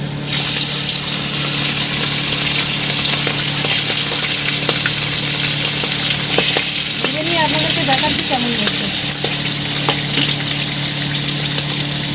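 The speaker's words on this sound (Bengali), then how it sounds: "আমি মাছগুলো খুব হালকা করে ভেজে নেব" Hilsa fish pieces fry lightly in hot oil, giving a steady, loud sizzle up close, with a few soft stirring clinks and a faint voice partway through.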